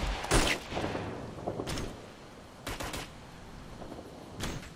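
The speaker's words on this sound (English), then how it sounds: "Pinned under heavy fucking fire here." Heavy gunfire in the military shooter game Operation Flashpoint: Red River, sharp bursts cracking out in irregular clusters at moderate distance, separated by quieter stretches of low background rumble.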